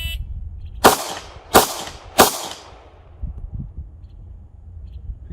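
Three sharp handgun shots during a one-handed shooting drill, about two thirds of a second apart, loud and cracking with quick decay, followed by faint scuffs and clatter.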